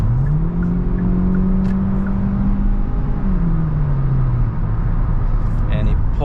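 A 2023 Hyundai Elantra accelerates from inside the cabin, its engine droning and rising steadily in pitch, then easing off as the car shifts, with a faint whoosh of wind noise around it.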